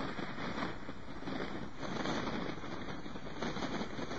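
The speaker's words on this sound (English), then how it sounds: "Very windy." Scottish Highlands wind from a relaxation recording, a low buffeting roar with gusty surges that swell and ease at a steady moderate level.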